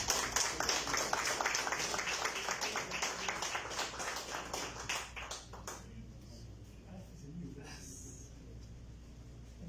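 A conference audience at an international forum on conflict prevention and governance gives dense, sustained applause to a speaker. The clapping is loud at first, then thins and fades out into room murmur.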